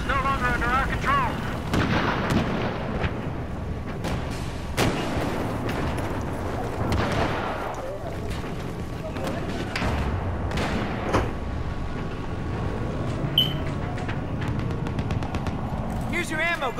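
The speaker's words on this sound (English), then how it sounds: "Somebody's shooting him!" Gunfire and explosions in the Battlefield 4 video game, with a steady run of sharp shots and booming blasts in a dense combat mix, under overlapping talk.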